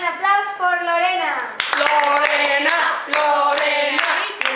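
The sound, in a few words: children clapping and applauding for Lorena at camp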